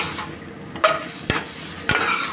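Mama instant noodles being stir-fried in a pan, with three sharp scraping clanks of a utensil against the pan about half a second apart over a faint, steady background sizzle.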